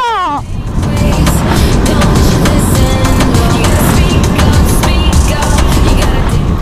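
A car engine roars loud and close while driving, with a rising rev as it shifts up a gear, the steady engine and road noise filling the whole stretch.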